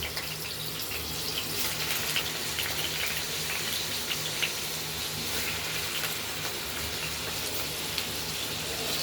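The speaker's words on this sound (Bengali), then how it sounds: "আলুটা ভেজে নিই তারপর দেখাবো তেল হয়ে গেছে আলু দিয়ে দিলাম" Potatoes frying in hot oil for a banana flower curry, a continuous even sizzle at moderate distance, fairly quiet with small pops scattered through and no talking.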